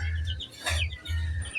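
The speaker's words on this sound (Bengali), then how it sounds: "এই যে মুরগির বাচ্চা গুলো" Young chicken chicks chirp up close in short, high peeps. The bursts come in a quick uneven run with a low background hum beneath them.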